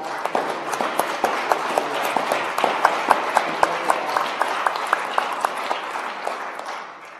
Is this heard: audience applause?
yes